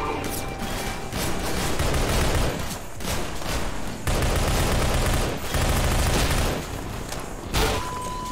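Sniper and other gunfire in the shooter game Entropy Zero 2, a near-continuous volley of loud, close shots and bursts with brief gaps, filling the whole stretch without speech.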